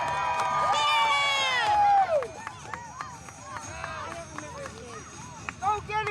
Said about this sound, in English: Cheer for your gladiator who wanted to win!